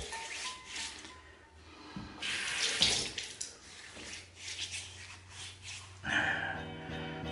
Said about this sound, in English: So I'll put some water on the face.